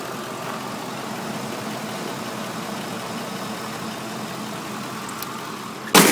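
A 5.4-liter V8 in a 2005 Ford F150 4x4 idles quietly and evenly, a steady low hum held throughout, ending in a brief sharp clatter.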